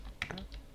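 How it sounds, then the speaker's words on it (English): Typing on a computer keyboard during a Revit building-design session, with a few quick, soft key clicks in a short burst at low volume and no one speaking. "you type enter on your keyboard"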